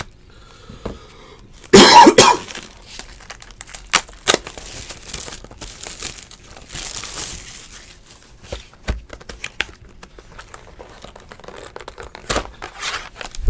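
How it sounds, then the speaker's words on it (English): Several short coughs and throat-clearing bursts, close, scattered among crinkling and tearing of foil card wrappers during a baseball card case opening, with no speech. "I get the coughing after being in here for a while."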